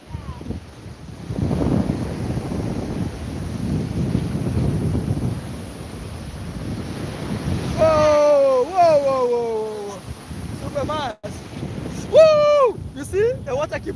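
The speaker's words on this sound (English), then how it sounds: "And you know this place has strong waves." Strong ocean waves surge onto a beach in a steady, loud wash of surf mixed with wind buffeting the microphone, then people talk nearby over the continuing roar.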